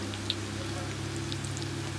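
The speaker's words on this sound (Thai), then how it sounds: "แต่ฝนมันตกมาสามเทือแล้วมันบ่บอก" Steady rain falls outdoors in a continuous, even patter, with a low constant hum underneath and a few brighter drips standing out near the start.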